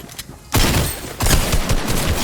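Dense, loud gunfire from a Fortnite Season 5 match, a burst of overlapping shots breaking out after a brief quiet and continuing in rapid, uneven volleys.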